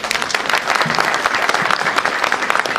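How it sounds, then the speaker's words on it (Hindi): A seminar audience applauds loudly for Rajiv at a success-story event about part-time work. The clapping is dense and sustained, with a few voices mixed in. "राजीव जी इनके लिए ताली बजाओ जोरदार।"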